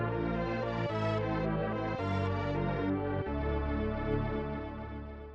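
Item acquisition jingle from a Metroid game plays loudly and steadily for about five seconds: dense layered synth chords that change three times and fade slightly at the end, with no voices.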